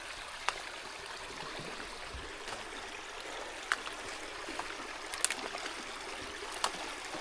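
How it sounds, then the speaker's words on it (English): A creek flows in Nova Scotia woodland, a soft steady rushing and trickle with occasional small splashes and clicks, fairly faint and uninterrupted by talk. "this is where it flows into the creek."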